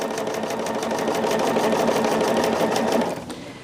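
Sewing machine stitching a fabric pillowcase with a dual foot attached, a steady rapid needle rhythm running loud and close for about three seconds before easing off at the end.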